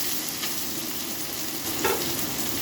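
Onion and spices fry in a pan over gas, a loud, steady sizzle up close with faint stirring scrapes and a brief utensil tap partway through.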